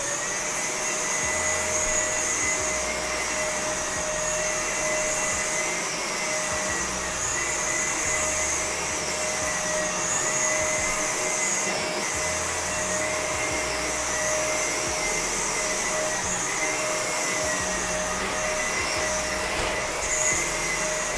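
A vacuum cleaner runs steadily on an office rug, a loud continuous whining drone with a constant pitch that holds unbroken throughout, with no voices.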